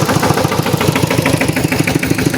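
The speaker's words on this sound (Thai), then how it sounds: "รถไถยังบ่ไป" A tractor engine idles close by with a steady, rapid chugging rhythm and no voices.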